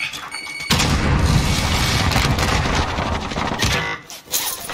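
A grenade blast in Call of Duty erupts suddenly and loudly, then a rumbling burst of gunfire and explosion noise follows before fading, with a second brief burst near the end.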